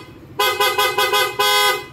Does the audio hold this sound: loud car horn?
yes